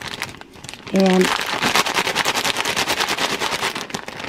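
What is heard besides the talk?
crumbling bacon by rubbing it in a plastic zippered bag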